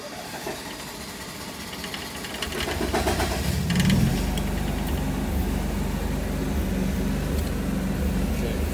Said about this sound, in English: Let me fire up this generator